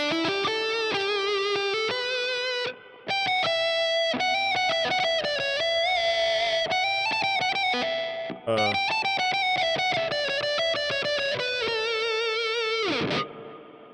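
Pentatonic electric guitar lead with string bends through a Boss GT-1000 patch modelling an Orange Rockerverb, a saturated distorted tone with sustained, bending notes, two brief pauses between phrases, then a sliding drop and silence at the end.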